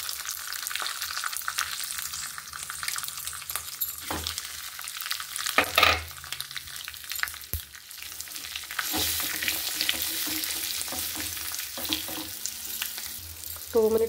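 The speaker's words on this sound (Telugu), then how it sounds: "ఇప్పుడు వెల్లుల్లిపాయ కారం యాడ్ చేసేసుకున్నాం." Garlic chili powder stirred into a sizzling tempering of cumin, mustard seeds and curry leaves in a pan: a steady close hiss broken by scraping spoon strokes and a few sharper clinks, with no voices.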